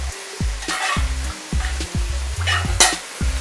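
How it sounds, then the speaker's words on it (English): Beef stew sizzles in a pot while a utensil stirs it, with rhythmic scraping strokes against the pot over a constant frying hiss, close and fairly loud, with no talking. "Then you stir it also"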